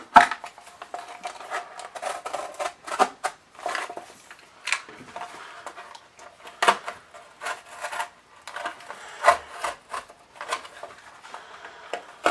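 A blade cuts all the way through cardboard to make a seed post card, giving a close, quiet series of short scraping and rasping strokes with brief pauses in between.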